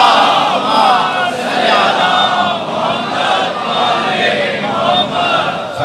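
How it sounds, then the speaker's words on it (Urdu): A large crowd at a Shia majlis chanting salawat loudly together, a dense, steady roar of many voices rising and falling in waves without a break. "جو جہاں بیٹھا ہے بلند صلوات پڑھے۔"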